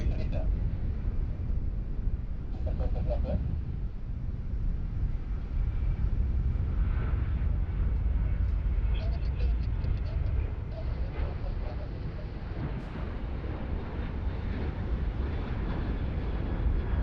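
A jet departs from Sydney Airport, heard as a broad, continuous low roar that stays fairly even throughout, with faint background chatter.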